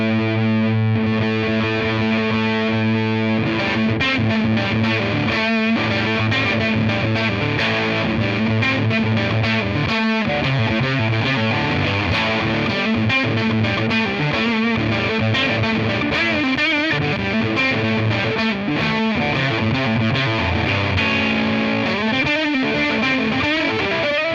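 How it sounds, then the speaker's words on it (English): An electric guitar runs through a Tate FX Sirens Scream distortion pedal pushed into silicon fuzz territory, giving a loud, continuous, saturated tone with sustained chords and riffs and no talking. "As I push the gain, we're going to sort of verge into some more silicon fuzz-like territories rather than distortion."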